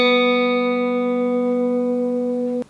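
An electric guitar with old, worn strings rings one sustained, slightly out-of-tune chord, close and loud, holding steady for over two seconds before being abruptly cut off.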